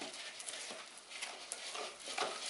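A rye-flour sourdough starter mixture is stirred, giving soft, continuous sticky scraping and squelching that stays fairly quiet and steady for a few seconds.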